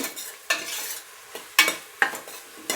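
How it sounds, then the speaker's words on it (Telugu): Ginger garlic paste frying in a pan, with soft sizzling broken by several sharp scrapes of a spoon stirring, close and fairly quiet, no talking. "ఇది మనకు పచ్చి వాసన పోయేదాకా బాగా వేపుకోవాలండి, బాగా ఫ్రై చేసుకోవాలి."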